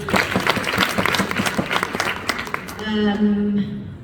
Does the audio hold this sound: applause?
yes